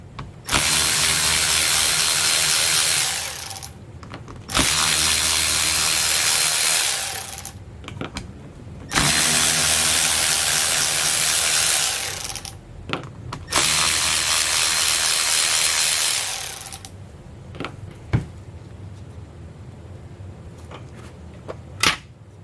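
A power ratchet or impact tool unbolts a 1966 Mustang transmission filter in four loud bursts of a few seconds each. The bursts are separated by short pauses with clicks and clanks, and scattered clicks follow.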